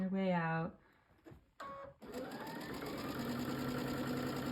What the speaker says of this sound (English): you're just gonna sew with your 1/4 inch seam across that seam, starting in the middle, working your way out